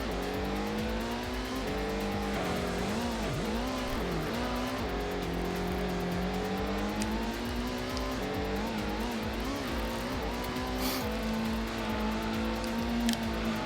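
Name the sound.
race car engines in Gran Turismo PS1 video game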